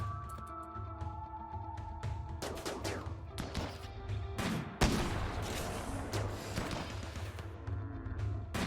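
Gunfire from a RimWorld battle with the Royalty expansion and mods: dense, overlapping bursts of shots and thuds under a steady game hum, with a turret joining in, continuous and fairly loud throughout.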